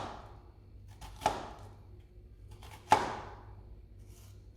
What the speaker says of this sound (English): take your knife and just cut through, but don't cut all the way through to the root of the onion